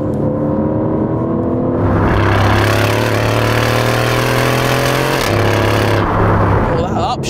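Aston Martin Vantage engine roaring loud and close under hard acceleration, with rising harmonic sweeps and a sharp break near five seconds as the gearbox snaps through an upshift before the revs climb again.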